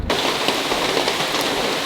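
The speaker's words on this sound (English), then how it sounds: "even though it's downpouring outside today" Heavy rain pours down outside during a cyclone in Panama, a dense, loud, continuous hiss of drops that holds without a break.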